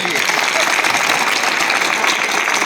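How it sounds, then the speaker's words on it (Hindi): Children clapping in a classroom or school gathering, a loud dense burst of many small hands close by, continuous and even across the whole stretch. "जोरदार ताली बजाओ पहले"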